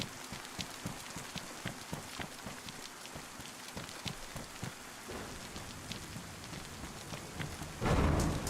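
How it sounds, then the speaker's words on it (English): Rain patters steadily in the survival video game DayZ, with scattered drop ticks and a low thunder rumble swelling near the end. "The rain."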